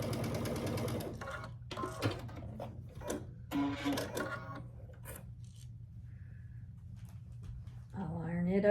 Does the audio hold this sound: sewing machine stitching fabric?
yes